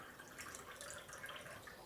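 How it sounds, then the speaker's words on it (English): Water poured into a glass makes a faint, steady trickle with light dripping, quiet and continuous for the whole moment. "Yes, pour water."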